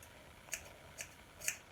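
Three quiet, crisp snips of scissors cutting hair, about half a second apart, close by in a hushed room.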